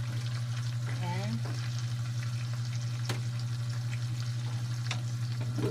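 Spicy garlic butter shrimp sizzles steadily in a pan as it is stirred, giving a close, continuous frying hiss broken by a few faint utensil clicks.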